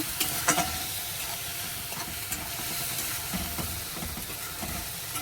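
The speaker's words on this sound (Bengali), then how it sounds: "মশলাটাকে ভালো করে ভেজে নেব" Spiced masala for chole frying in oil in a pan, a steady soft sizzle with scattered crackles and faint stirring scrapes, no voices.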